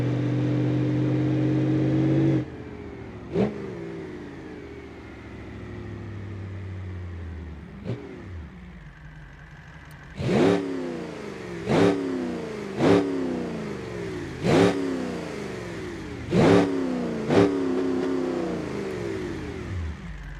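Limo engine in BeamNG.drive revving in a series of about six sharp, loud bursts spaced a second or so apart, after an earlier steady idle and a couple of lighter blips.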